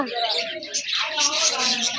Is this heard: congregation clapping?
no